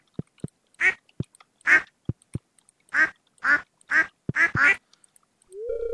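Ducks quacking in the farming game Stardew Valley, a series of about eight short, clear nasal quacks in an uneven rhythm, mixed with brief low game blips and a rising tone at the end, no talk.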